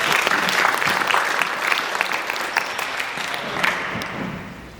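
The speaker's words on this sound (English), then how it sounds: "Give Max a round of applause" Applause for a young player from attendees at a basketball defense coaches clinic, a brisk, fairly close round of clapping lasting several seconds and gradually fading.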